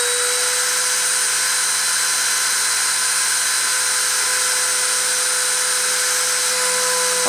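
A machine spindle motor runs at a steady high-pitched whine with strong constant tones and a broad hum, loud and close, unchanging for the whole stretch.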